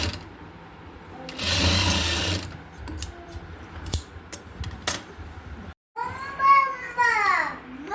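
A sewing machine stitches the neckline of a round-yoke nightdress in a short whirring burst, followed by scattered clicks and handling noises, with a voice and other talk in the room.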